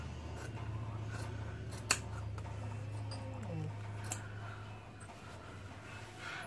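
Scissors snipping through suit fabric to shape a six-inch neckline, with a few sharp close clicks of the blades over a steady low hum, no talking.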